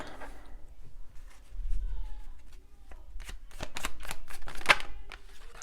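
Oracle cards shuffled and pulled for a tarot-style reading, giving a close series of quick papery riffles and flicking snaps, with a few sharper slaps toward the end and faint low background noise.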